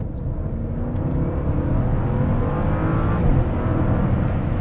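A Bentley Bentayga V8 SUV accelerates hard from low revs, its engine a steady, strong drone that builds and swells from inside the cabin, with no talk over it.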